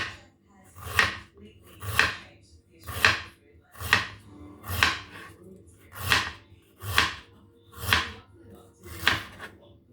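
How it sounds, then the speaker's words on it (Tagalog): Ginger chopped with a knife on a cutting board, ten evenly spaced, fairly loud thuds about once per second, close up and without talk. "maghiwa rin tayo ng luya"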